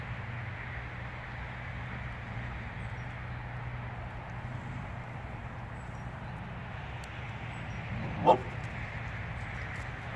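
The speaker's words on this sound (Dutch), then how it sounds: "Blaffen. Het is ook praten. Het is hondentaal." A dog gives one short, sharp bark partway through, standing out once above a steady low background hum, with no talking around it.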